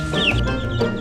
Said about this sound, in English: You're a chicken.